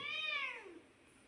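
A single drawn-out cat meow, close and fairly soft, falling in pitch at the end.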